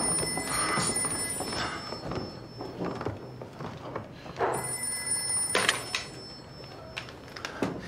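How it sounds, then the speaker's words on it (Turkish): Telephone ringing in an office scene, repeated bright electronic ring bursts alternating with short pauses, fairly close and clear, with light background activity and brief voices. "Semih Bey, telefon Ekrem Bey"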